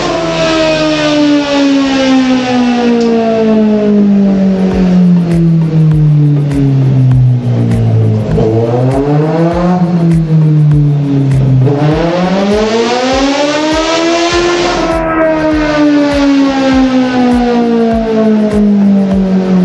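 A motorcycle engine revs hard on a dyno during a remap session, its loud, sustained tone sweeping down, then up and down again in long pitch glides that rise and fall like a siren, with no talk over it.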